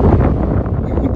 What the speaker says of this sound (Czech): Já si ani nevšim, že dneska fouká